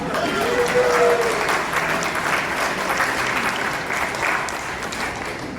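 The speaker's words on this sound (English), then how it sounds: "We need a clap for the Lincoln Club." An audience claps steadily for several seconds, a full, even round of applause with a brief voice audible near the start.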